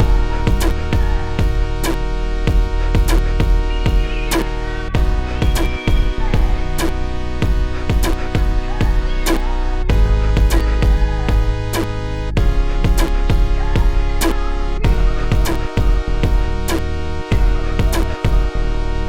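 A hip-hop drum pattern built on a drum kit kick, pounding steadily and loud through the whole stretch with crisp hits on top, mixed with a looping sample and no voices.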